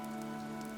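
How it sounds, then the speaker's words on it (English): Steady rain patters evenly in a Fire Emblem: Three Houses game scene, a soft continuous hiss of drops on a surface under a faint tonal backdrop, with no voices. "This rain threatens a coming storm."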